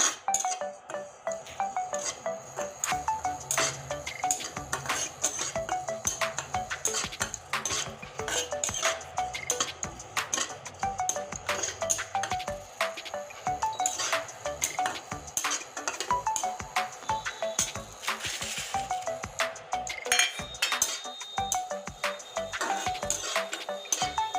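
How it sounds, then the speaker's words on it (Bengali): A wok is set back down on the stove while cumin is fried for a Bengali fish curry, with repeated metallic clanks and clinks of cookware and utensils close by over a steady kitchen background. "আবার কড়াইটা বসিয়ে দিচ্ছি"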